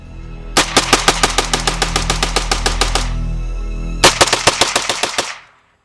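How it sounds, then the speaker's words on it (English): Rapid rifle gunfire rings out in two loud, close bursts: a long run of about twenty evenly spaced shots, a short pause, then a second, shorter string before it cuts off. "Now, the gunshots were a lot louder than what you heard."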